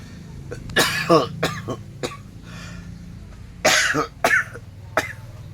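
A person with a cold coughs and clears their throat repeatedly in short, harsh bursts, close and loud, spaced by quiet breathing pauses.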